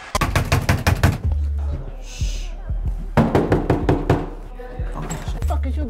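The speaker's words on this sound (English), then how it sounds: "What you banging on my door for?" Loud, rapid banging on a door in a comedy scene, a burst of heavy knocks, then a pause and another run of hard blows, with a voice breaking in between.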